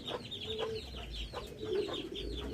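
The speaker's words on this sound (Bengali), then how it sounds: "আর এইখানে দেখো মুরগির ঘর আমার" Chickens clucking inside a chicken coop, a few soft close clucks spaced across a short stretch, fairly quiet with no talk.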